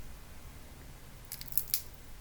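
A few sharp, brittle crackles and crunches of crispy dried jalapeno peppers, close and fairly quiet, over a soft low background hum.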